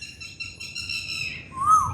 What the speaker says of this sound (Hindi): अरे वाह चिड़िया